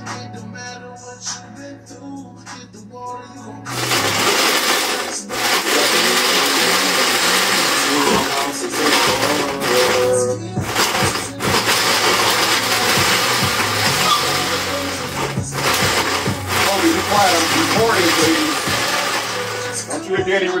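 A blender blending strawberry crumble mixture whirs loudly and continuously after a quieter start, its motor pitch wavering slightly with brief dips as it runs.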